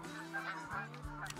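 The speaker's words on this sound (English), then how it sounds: "Oh my god, there's geese everywhere." Geese honk repeatedly from a flock surrounding a goose hunt, overlapping nasal calls that sound faint and somewhat distant.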